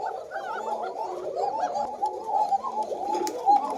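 Male Koka pigeon cooing continuously at close range, a steady run of soft repeated coos with faint background noise.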